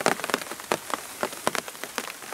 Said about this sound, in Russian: Поливает здорово.